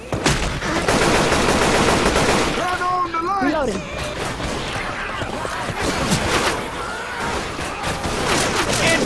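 Rapid gunfire from Left 4 Dead 2 with the Left4Ponies2 mod: dense, loud bursts of automatic shots mixed with crashes and game effects, with voices calling out over the shooting throughout.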